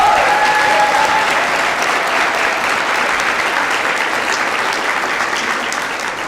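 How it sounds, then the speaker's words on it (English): Sustained applause from a large audience at a graduation ceremony, steady and dense throughout, fading only slightly toward the end with no voices over it. "A round of applause for everybody that could not make it today."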